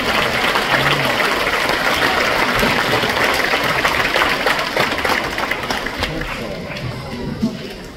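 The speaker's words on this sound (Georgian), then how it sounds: "ტაში რომელსაც ვიმსახურებთ" A large concert audience at an anniversary gala of a state academic song and dance ensemble breaks into loud, sustained applause, a dense wash of clapping that holds steady and thins slightly toward the end.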